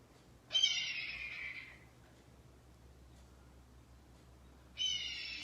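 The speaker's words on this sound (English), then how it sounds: "the sound that is often used in place of the actual bald eagle call is that of a red-tailed hawk" A recorded red-tailed hawk call plays twice, each a harsh, drawn-out descending scream about a second long, separated by a quiet pause.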